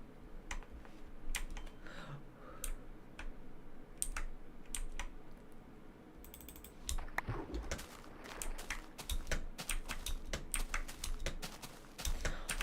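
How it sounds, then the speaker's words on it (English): Typing on a computer keyboard in Minecraft comes as sparse, crisp key clicks that thicken into a faster, denser run of tapping in the latter half, quiet and close with no voices. "look at that keyboard. I'm going to type on it."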